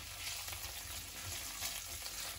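Lard and bacon fat sizzle and crackle steadily in a hot pan, a continuous spattering hiss with no talking.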